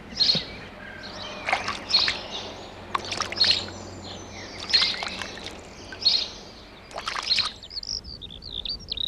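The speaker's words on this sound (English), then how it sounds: "we've got a dustbin lid which we just fill up every morning, and the starlings come down and bathe in that" Starlings chirp and call in repeated short bursts around a water-filled dustbin lid in a garden, with faint splashy sounds from bathing under the bird calls.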